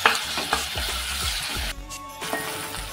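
Onion sizzling in a pan with oil, an even hiss broken by soft stirring knocks and a short dip near the end, moderately loud and close, no talking.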